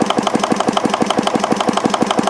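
A Wittie engine idles at no load with a steady, rapid run of evenly spaced firing knocks, close and loud, with no voices.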